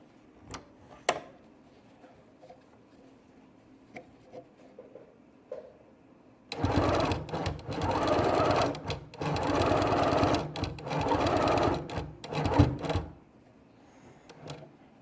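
A sewing machine stitches steadily for about six seconds on a gnome advent calendar project, loud and close, preceded by a few quiet clicks and handling sounds.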